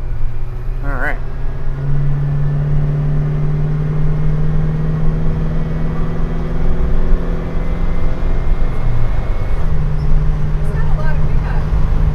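A 1978 GMC Royale 26 ft motorhome on a test drive, its engine droning loudly and steadily from inside the cabin as it accelerates under partial throttle, with a voice speaking briefly over it.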